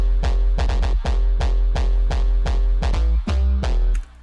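Unfiltered synth bass from analog generators plays a steady, punchy pattern of repeated low notes with bright buzzy overtones, loud and continuous for about four seconds, with no voices.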